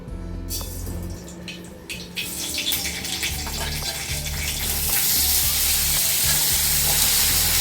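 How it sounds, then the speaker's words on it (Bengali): Mustard seed and green chili tempering frying in hot oil: a continuous sizzle that swells louder and brighter toward the end, with faint clatter and a low hum underneath, no voices. "এটাকে বাস ভাজা ভাজা করে দেবো"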